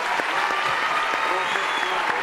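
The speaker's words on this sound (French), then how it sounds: "applaudissements, mesdames, messieurs" TV studio audience on a French game show breaks into applause, a continuous dense patter of many hands with a faint voice mixed underneath.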